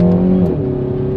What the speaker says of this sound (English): Let's test out the paddle shifters and let's see how quickly they are going to react for us here